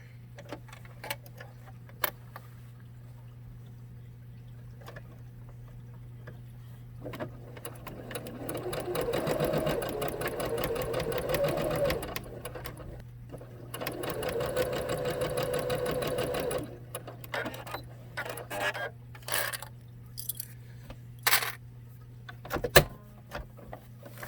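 A sewing machine stitches a cloth face mask in a few bursts of rapid, whirring needle chatter, with pauses between runs, light clicks and a steady background hum.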